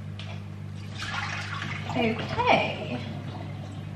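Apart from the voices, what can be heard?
water running while washing raspberries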